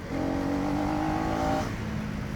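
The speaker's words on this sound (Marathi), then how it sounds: "My bike is roaring bro, roaring. Room room." Motorbike on a road ride in the Konkan, its engine roaring loud and close under open throttle for about a second and a half, then dropping back to a lower, steadier hum.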